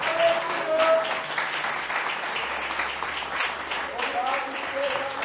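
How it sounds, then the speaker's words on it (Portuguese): Church congregation applauding during a sermon, steady dense clapping with a few voices mixed in throughout. "Pode aplaudir mesmo ao Senhor."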